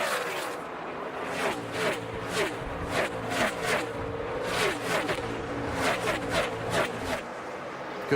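NASCAR stock cars race at full throttle on fresh pavement at Kansas, a dense engine roar with repeated loud whooshing pass-bys swelling and fading in quick succession, partly under a commentator's voice.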